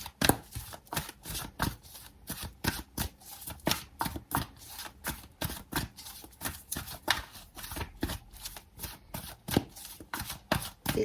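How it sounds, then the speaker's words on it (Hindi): An energy oracle card deck is shuffled by hand in quick, steady riffles, a close, dry flutter of cards repeating rhythmically for several seconds with no talking. "3 कार्ड देखेंगे हम यहाँ से एनर्जी ऑरेकल डेक से।"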